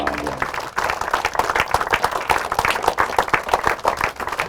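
Outdoor crowd applause at a drive-in theater, steady dense clapping from many hands with a few scattered whoops, moderately near and continuous throughout.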